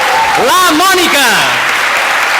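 A theatre workshop audience claps loudly and steadily as a voice calls out over the applause in the first second.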